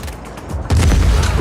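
Gunfire and explosions aboard an armored train in the Just Cause 4 video game: a low rumble that jumps abruptly to a loud, dense barrage of booming blasts and shots about halfway through.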